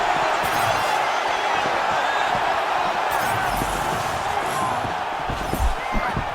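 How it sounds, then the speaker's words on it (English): Crowd cheering in the EA Sports UFC 6 video game during a brawling bout, a steady dense roar of arena noise held throughout with occasional louder swells and thumps. "An appreciative crowd obviously getting behind both fighters."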